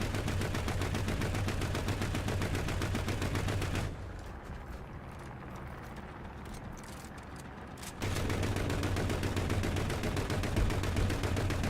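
Dense, rapid cannon fire from a vehicle in the combat video game Junk Thunder roars continuously and loudly, cuts out for about four seconds, then resumes just as intensely.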